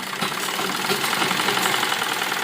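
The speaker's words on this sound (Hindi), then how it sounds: "तो जो हमारा आगे का गला है उसके ऊपर हम पीछे के गले को इस तरह से रखते हुए पलटते हुए और यहाँ पर सिलाई लगाएंगे" Sewing machine stitching along the neckline of a side-dori frock, a continuous fast mechanical whirr and rattle running steadily close up with no pauses.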